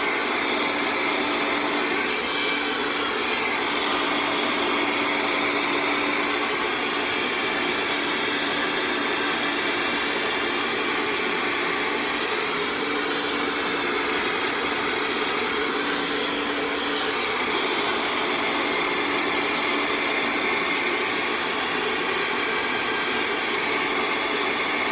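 Hair dryer blow-drying hair, a loud, steady, close airy roar running unbroken for the whole stretch, its tone shifting slightly as the airflow moves, with no talking.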